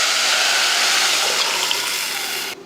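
Diluted rasam poured into a hot pan of mustard seeds, urad dal and dried red chillies gives a loud, steady hiss and sizzle that holds for over two seconds, then cuts off sharply.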